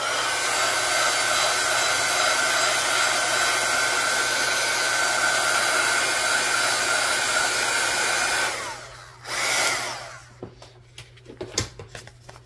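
A heat tool blows steadily and loudly for about eight seconds while distress ink dries on an absorbent-ground art tag, then cuts off, leaving a brief burst and a few light handling clicks.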